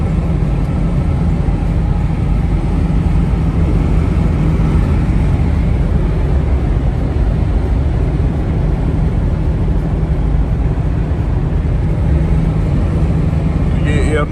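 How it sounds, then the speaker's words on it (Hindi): Toyota Land Cruiser 76 series pickup, turbocharged, at speed: a loud, steady, low engine and road drone with wind noise fills the cabin without letup, and a voice seems to talk over it. "नॉइज़ बहुत ज़्यादा है इस गाड़ी में"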